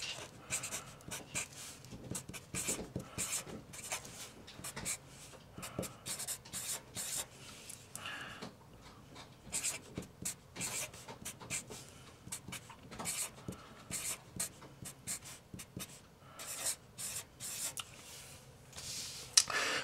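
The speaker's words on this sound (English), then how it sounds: "So I'm going to write these on top of each other." Hand-written equations for an interest problem, a quiet close-up of irregular scratchy pen or marker strokes on a writing surface in short bursts and pauses, with no speech.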